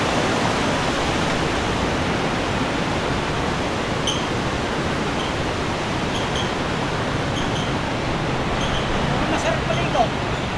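Strong current of the Tibiao river in Antique rushing steadily as a loud, continuous broadband roar, with faint voices here and there in the background.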